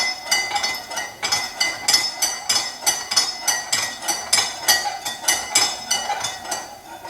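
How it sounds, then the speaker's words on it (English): A spoon stirs sweetened Thai tea in a glass, making rapid, regular clinking taps against the sides, about two per second, close and clear with no talk. "We're just going to keep stirring this."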